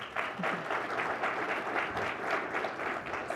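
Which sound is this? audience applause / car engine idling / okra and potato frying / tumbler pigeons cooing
audience applause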